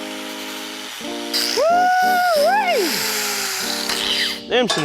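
A power tool fitted with a carbide bit cuts pipes on an El Camino, its whine rising and falling over a few seconds while someone talks nearby.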